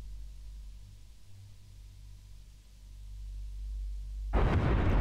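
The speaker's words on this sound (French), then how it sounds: "Et tout a explosé." A landing spacecraft blows apart in Kerbal Space Program 2: a steady low engine rumble swells gradually, then a sudden loud broadband explosion bursts in near the end and keeps roaring.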